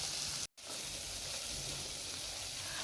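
Tomatoes cooking in a pot for pilau give a loud, steady sizzling hiss that continues throughout, broken only by one brief moment of silence near the start.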